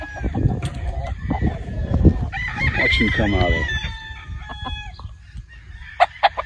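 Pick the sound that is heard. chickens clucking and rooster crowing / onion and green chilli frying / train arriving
chickens clucking and rooster crowing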